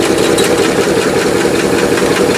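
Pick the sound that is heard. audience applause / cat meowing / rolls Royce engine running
rolls Royce engine running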